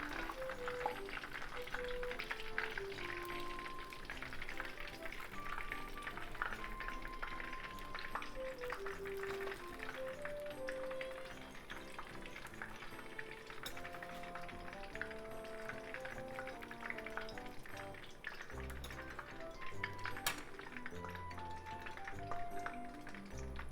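Pork, kimchi and cheese harumaki spring rolls deep-fry in hot oil with a steady, even sizzle that runs throughout, partly masked by a melodic music track playing over it.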